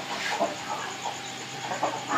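A country (gavthi) rooster clucks in a few short, close bursts over a steady background hum, with no voices.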